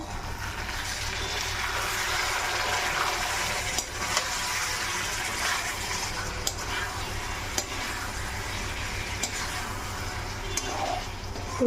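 Stuffed vegetables fry in a thick spice masala while being gently stirred, a steady low sizzle with occasional soft scrapes and taps of a spoon against the pan, close and continuous.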